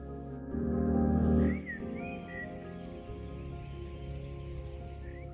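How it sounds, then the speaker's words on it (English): Birds sing outdoors, a faint high warble running over a steady low hum, with a brief louder rumble near the start. "The birds are loud. They can't contain their excitement, expressing it in vibrant and harmonious musical notes."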